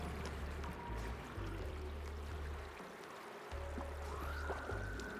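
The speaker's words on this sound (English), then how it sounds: "The water just fills out over there." Water flows and fills a space in the game Oxygen Not Included, a steady soft pouring stream running under a low droning background with faint game tones.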